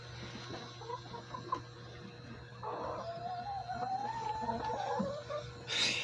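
Chickens in a backyard coop cluck and murmur at moderate distance, with a longer warbling call rising in the middle and a brief louder squawk near the end over a steady low hum.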